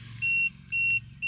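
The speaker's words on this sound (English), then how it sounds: "This is what the alarm sounds like." An Inkbird CO2 monitor alarm sounds three bright, steady electronic beeps, each lasting about a quarter second with a short gap between them. The beeps are loud and close, over a faint low hum.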